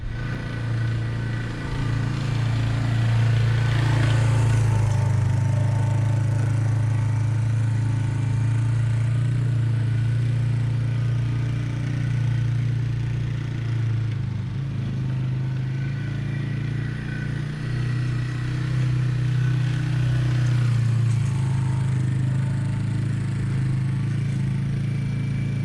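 A John Deere 4066R compact tractor drives across a bare lawn spot, its engine a steady, loud, close drone that holds with only slight swells throughout.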